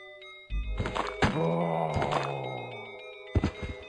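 Zombie noises in the Biohazard video game: a sharp heavy thunk followed by a drawn-out guttural groan, then another burst of thuds and growls, close and loud with no talking.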